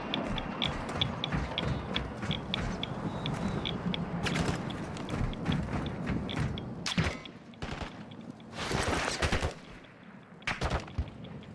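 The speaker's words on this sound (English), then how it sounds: "Guys, stop shooting me." Rapid automatic gunfire in the video game Call of Duty DMZ, dense bursts of shots with sharp louder cracks standing out near the end, continuous and close.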